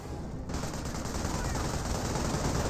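Continuous rattling gunfire in the strategy game Company of Heroes as a unit fires on engineers, a dense unbroken clatter filling the whole moment after a brief quieter start.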